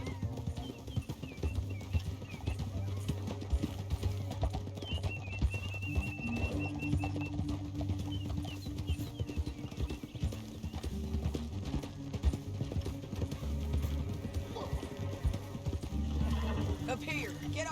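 Horses clip-clop at a steady trot with several whinnies, amid Red Dead Redemption 2 gameplay, with someone talking and music throughout.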